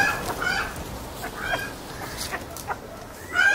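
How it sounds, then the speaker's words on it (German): A hen clucks in short agitated bursts, with several sharp squawks scattered over a steady low background and a louder call at the end. "Das Huhn hat sich aufgeregt"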